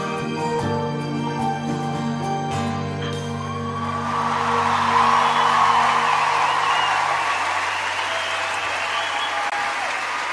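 Concert audience cheering and applauding as music fades out, then a broad wash of steady clapping with scattered whoops swells and carries on to the end.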